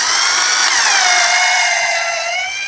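Power drill spinning a bit through material while working on a caravan toilet, a loud continuous high whine that rises slightly then eases down in pitch, close up with no talking.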